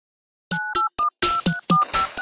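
A quick run of telephone keypad beeps, about eight short DTMF tones in an uneven tapping rhythm, close and clear with no talk.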